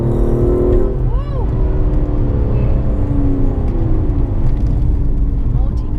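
Aston Martin DB11 engine pulling hard in cabin, a loud continuous drone that rises in pitch as the car accelerates, with a voice speaking over it.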